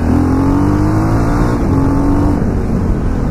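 A KTM LC4 640 single-cylinder motorcycle pulls hard in a steady loud engine roar that rises in pitch, close up and alone with no speech.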